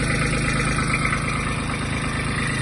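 A Kubota GB-18 Japanese mini tractor engine idles steadily and evenly at close range, a smooth continuous low rumble with no voices.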